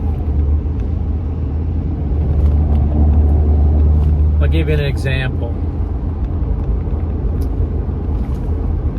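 A truck engine rumbles low and steady from inside the cab while driving, with someone talking over it and a brief higher whine partway through.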